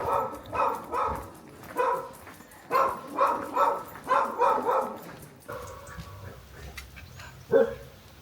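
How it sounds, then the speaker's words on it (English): Several dogs bark from balconies along a narrow Spanish village street in Relleu, a run of repeated close, loud barks in uneven bursts, then a pause before one last sharp bark. "there was like 3 dogs in the same street, all on the balconies, that all come out to say hello to our two"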